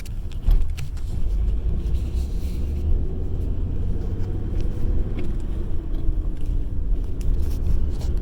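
Engine of a manual Ford Ranger pickup revs lightly, then pulls away steadily as the clutch engages, a continuous low rumble heard from inside the cab with no talking.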